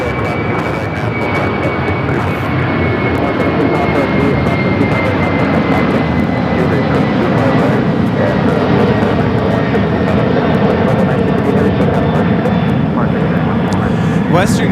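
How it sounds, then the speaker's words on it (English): A Western Global Airlines Boeing 747-400 freighter taking off from LAX, its engines a loud continuous roar with a steady high whine throughout, while people talk over it. "9258 taking off to Sacramento on the 747-400 freighter McClellan Airport."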